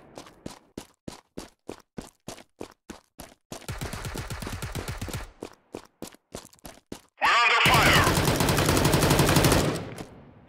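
Gunfire in Tales of Glory 2 starts as a steady string of single shots. Two sustained automatic bursts follow, the second loud and dense, with a few more spaced shots in between.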